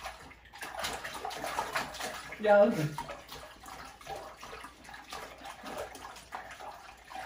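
Hands are rinsed under a running tap, a steady close splashing of water throughout. A louder gush comes briefly near the middle, and a voice speaks once.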